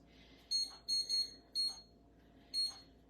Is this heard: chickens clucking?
no